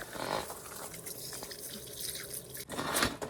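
Water drips and splashes while oil is washed off a Honda Civic's subframe during an oil change, an uneven patter of close, small drops and splatters.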